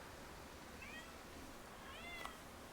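A cat meows twice, faint and in the background, against a steady low hum of room noise.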